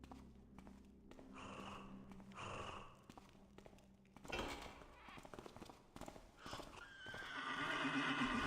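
A horse from the stealth video game Thief whinnies and neighs, with clip-clop hoof steps and snorting breaths layered over ambient game sound, the neigh rising loudly near the end.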